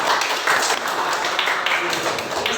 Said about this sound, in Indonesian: Iya, kasih tepuk tangan dulu.